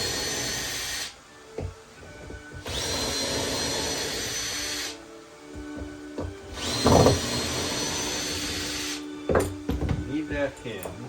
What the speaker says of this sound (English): I'm going to take this hinge off.